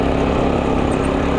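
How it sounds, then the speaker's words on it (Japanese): A loud engine drones steadily up close, a constant rumble throughout with no pauses. "エンジンかけます。"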